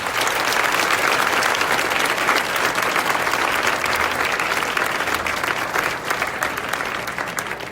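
An audience at a high school moving-up ceremony applauds the faculty members, a dense, steady wash of many hands clapping at once, loud and sustained without a break.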